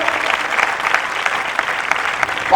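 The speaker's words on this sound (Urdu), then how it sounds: "آئیے زور میں تالیاں یسوع مسیح کے لیے بجائیں" A church congregation at a healing prayer meeting applauds loudly and steadily, dense clapping close by that fills the whole moment without pause.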